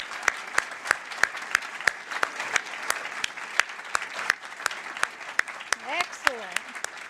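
Audience applause at a Mass Audubon annual meeting, steady clapping from a large seated crowd lasting throughout, with a brief voice and a few whoops rising near the end.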